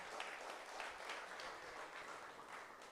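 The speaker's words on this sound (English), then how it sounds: "And I think that deserves a round of applause." Applause from a townhall audience at St. Patrick Anglican School, steady and continuous, fairly faint and distant, with no one speaking over it.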